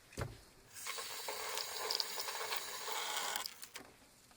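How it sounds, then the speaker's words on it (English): Running water pours steadily for a few seconds as an acid-etched knife blade is rinsed under a tap, close and moderately quiet, starting and stopping abruptly. "Alright, now rinse again in neutral water."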